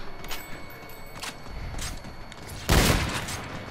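A three-round burst sniper rifle fires in Call of Duty Zombies. There are several faint, sharp shots, then one louder, fuller burst of gunfire near the end over low background noise.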